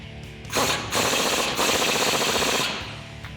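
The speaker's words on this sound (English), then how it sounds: "18mm socket and tighten it down" Ratchet wrench with an 18mm socket tightening a sway bar end link nut on a 2004-2021 Ford F-150 during a leveling kit install: a loud, close, fast continuous clicking that runs for about two seconds.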